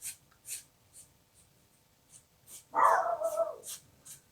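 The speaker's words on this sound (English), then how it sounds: "not my dog actually, it's my neighbour's dog again, barking in the background" A neighbour's dog barks once, a short muffled woof, in the background of an indoor setting, while a brush or pencil makes rhythmic light swishing strokes on paper close by.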